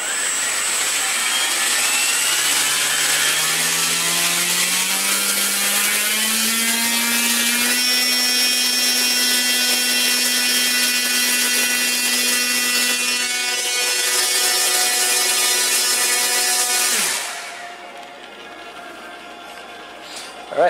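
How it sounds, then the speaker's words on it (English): Electric RC airplane motor, a 48-inch Extreme Flight airframe setup, spinning a propeller on a thrust test: a loud whine climbs in pitch, holds high and steady, then winds down abruptly near the end. "let's go ahead and see what we get as far as amps, watts, and thrust. So, here we go."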